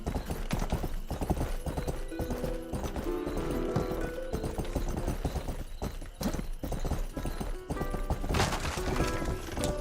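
Steady clip-clop of horse hooves trotting along in a video game, loud and continuous, with busy game-like background sounds and an occasional whinny.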